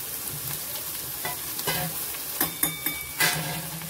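Capsicum, carrot and spring onion stir-fried for spring rolls, with a soft steady sizzle in the pan and several sharp clacks and scrapes of a spatula stirring the vegetables, fairly close and with no talk.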